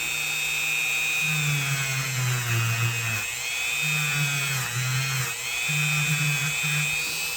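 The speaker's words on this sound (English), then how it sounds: "I got my wire wheel on here." A motor-driven wire wheel scrubs rust off a vintage knife blade: a loud, steady high whine whose pitch sags and recovers as the blade is pressed in and eased off, close by with no talking.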